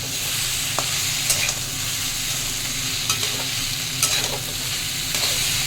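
Ginger and fennel paste fries with vegetables in a pan for Bengali shukto, a steady close sizzle with occasional scraping clicks from stirring and no voices.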